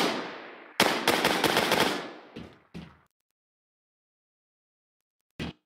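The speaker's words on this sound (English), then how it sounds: "I'm getting shot at over here." Video game gunfire crackles in a rapid, loud automatic burst lasting about a second, followed by two separate single shots. After a stretch of silence, one more short burst cuts in.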